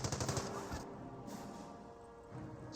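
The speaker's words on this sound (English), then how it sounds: "30 cal does suppress and pin that Grenadier" Rapid bursts from a .30 cal machine gun in the strategy game Company of Heroes, a quick rattling volley at the start followed by quieter distant firing, fairly faint.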